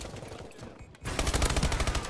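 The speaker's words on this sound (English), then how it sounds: "I thought that dude was shooting at me." Rapid automatic gunfire in a Call of Duty: Advanced Warfare online match, a quieter stretch giving way after a second to a loud, dense burst of shots that continues to the end.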